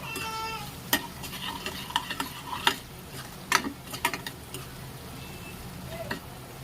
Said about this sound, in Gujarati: બધું આપણે સારી રીતે મિક્સ કરી લેવાનું છે